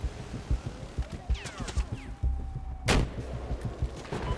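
Battlefield 4 gameplay with a rocket launch and gunfire: repeated muffled thumps of shots, a rising whoosh, and a sharp, loud blast near the end, all over a busy game background.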